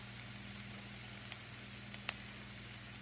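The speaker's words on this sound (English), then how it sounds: "1 stalk of celery, and we're just gonna saute that up real good" One stalk of celery sautéing in a single pan over medium heat for turkey tetrazzini, giving a steady, even sizzle and hiss throughout with a tiny click near the end.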